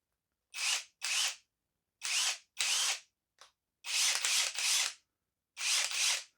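A Drill Pro 2-in-1 cordless impact wrench and driver, running on a Makita battery, fires in short bursts, whirring and rattling on and off several times with silent pauses between, close and clear.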